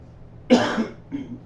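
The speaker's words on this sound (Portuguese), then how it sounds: "eu estou um pouquinho com tosse" A single sharp cough followed by a shorter, softer second cough, close and isolated against quiet.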